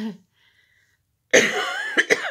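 A brief throat noise at the start, a pause, then a burst of harsh, close coughing with two sharper coughs near the end.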